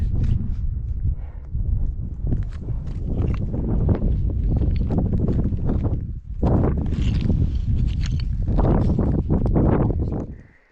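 Strong gusty wind on a mountain pass trail in Idaho buffets the microphone in a loud, continuous roar, with brief dips and surges.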